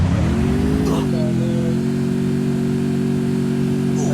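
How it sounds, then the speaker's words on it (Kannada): In the video game Free Fire, a motorbike engine starts loud and close and settles into a steady droning revving hum, with a voice talking over it. "ನಾವೀಗ ಬೈಕ್ ಎತ್ಕೊಂಡು"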